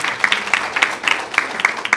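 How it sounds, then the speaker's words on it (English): An audience at an awards event claps in sparse, separate bursts, about eight distinct claps spread evenly, light and moderately close. "Please, a round of applause for him."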